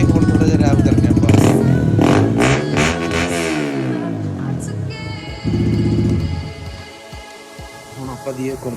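A motorcycle fitted with a full exhaust revs up sharply several times. Rising and falling loud engine sweeps give way to a rough idle and another short burst, with someone talking over the start.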